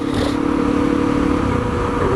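Honda CRF250L dual sport motorcycle ridden on a winter road, its steady engine drone and wind rumble continuous and close throughout, with no voices.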